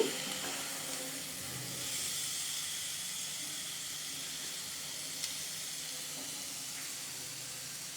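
Food frying in a pan over a low gas flame, a soft steady hiss and sizzle running evenly throughout with no talk.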